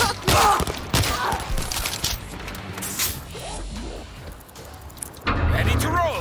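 Gunfire in World War Z on the Marseille map, loud dense shooting bursts at the start and end with scattered impacts between, mixed with game voices and chatter.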